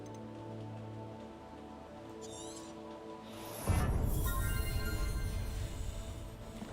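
Rain in the Hogwarts Legacy video game starts abruptly partway through, a dense steady hiss that rises over soft in-game music and ambience and keeps falling to the end.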